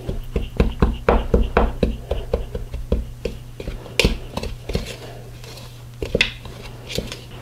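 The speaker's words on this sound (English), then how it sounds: "take your spoon and break those up a little bit" A spoon breaking up chunks of almond flour in a bowl for keto stuffing muffins, a rapid run of close clinks and taps against the bowl that then slows to scattered knocks over a low hum.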